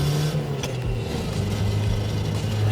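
A rough, worn Geely sports coupe, China's first, bought for $800, drones with a steady mid-pitched engine roar, held at high revs from inside the car with little change throughout.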